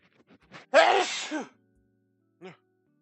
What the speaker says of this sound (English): Why do I have to sneeze so much?